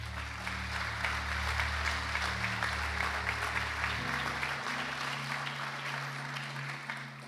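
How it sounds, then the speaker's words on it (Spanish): A church congregation gives a warm round of applause during a service, an even, continuous clapping over a low sustained keyboard-like drone that shifts pitch partway through, holding steady for several seconds. "¿Podemos darle un aplauso a Telma?"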